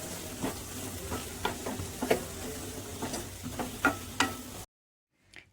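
Chopped carrots and capsicum fry in a pan for a capsicum coconut curry, giving a steady sizzle broken by repeated clinks and scrapes of a stirring spoon, before everything cuts to silence near the end.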